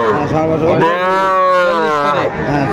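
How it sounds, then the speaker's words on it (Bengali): A Sahiwal bull calf at a Jashore cattle market lets out one loud, close, sustained moo that swells and then trails off, with faint voices in the background. "সব ষাঁড় বাচ্চা"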